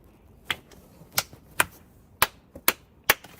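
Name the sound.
hand clap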